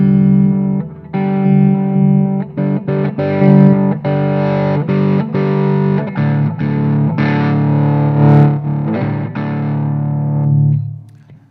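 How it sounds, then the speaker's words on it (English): An electric guitar plays through the Ibanez Tube Screamer overdrive built into a BluGuitar AMP1 amp. Loud, mid-heavy driven chords and notes ring out in a steady rhythm, then trail off at the end. "But we know what a tube screamer sounds like. It's that kind of mid-rangey thing."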